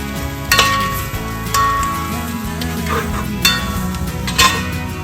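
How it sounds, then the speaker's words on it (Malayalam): Chilli, coriander and pepper powder with garam masala being stirred into hot oil for a traditional beef fry, a loud steady sizzle broken by periodic scrapes and knocks of the spoon against the pan. "മുളക് പൊടി, മല്ലിപ്പൊടി, കുരുമുളക് പൊടി, ഗരം മസാല ഒന്ന് എണ്ണയിലൊന്ന് ഇച്ചിരി ഒന്ന് ഇളക്കിയിട്ട് നമുക്ക് മിക്സ് ചെയ്യാം."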